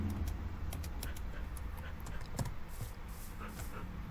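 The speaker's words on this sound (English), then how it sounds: "Oh, wolfies." Minecraft wolves panting and whimpering in the game, soft repeated dog-like sounds over a steady background hum.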